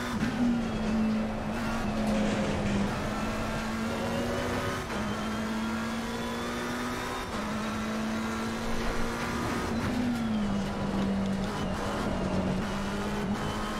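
Car engine in a racing video game during a drift, a steady droning engine note that holds level and shifts pitch in slow steps, continuous and fairly loud, with a faint hiss of tire noise beneath.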